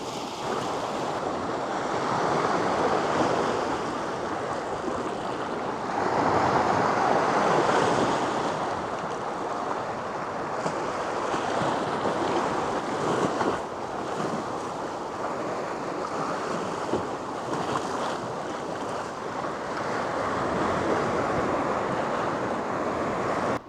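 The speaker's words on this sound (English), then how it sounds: "it does look like the tide is slowly coming in again" Steady roar of ocean surf as the tide comes in on a rocky beach at Hawsker Bottoms on a rainy day, with wind buffeting the microphone; continuous waves swell and fade throughout, with no one speaking.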